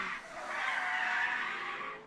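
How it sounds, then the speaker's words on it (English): Drift cars skid in tandem at a skid pad, a single sustained tire squeal that swells and fades over two seconds, heard from a distance and unaccompanied by voices. "That's why you hear all those loud engines in the distance."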